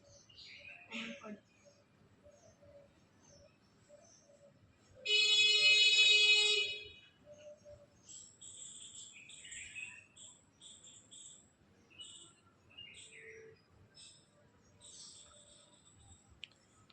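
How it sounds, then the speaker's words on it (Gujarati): Birds chirp in short, scattered morning bursts, with a loud, steady electronic tone cutting in briefly partway through. "સવાર સવારમાં મિત્રો જુઓ સરસ મજાનો પક્ષીઓનો અવાજ"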